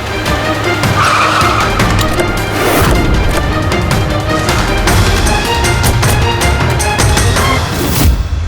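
A white car skids hard with tires squealing, a loud continuous screech over a revving engine that holds throughout, with no voices.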